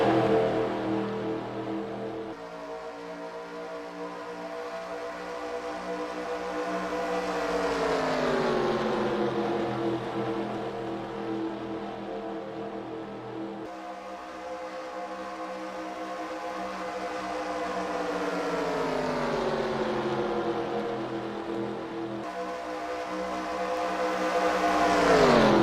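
Race car engines roar in the eNASCAR Heat video game, including a number 24 Chevy Camaro, as a dense, loud, continuous engine drone. The pitch sweeps down and back up in long repeating cycles like cars passing through corners.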